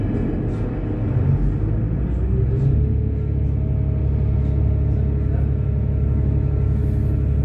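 Steady low rumble of a passenger train ride in Zonguldak, a continuous droning roar with a faint whine running throughout and no talk.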